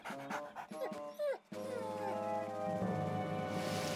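A dog whimpers and whines in short high-pitched cries with some panting, followed by a steady background hum and noise.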